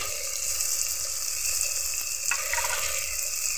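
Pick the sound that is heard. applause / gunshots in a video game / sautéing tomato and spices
sautéing tomato and spices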